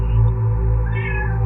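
A cat lets out a single drawn-out, tonal meow, loud and close, with no voices.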